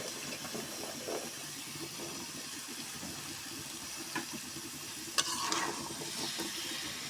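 Small-chopped hard winter vegetables sauté in a pan, giving a dense, continuous sizzle with a few scraping stir sounds toward the end.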